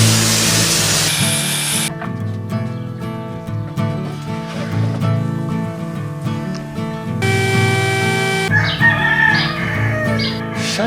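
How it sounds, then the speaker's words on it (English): Roosters crow repeatedly over a steady mechanical drone, several calls rising and falling near the end, fairly loud and close. "Shut the heck up, you stinking roosters."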